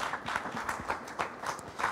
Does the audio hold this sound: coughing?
no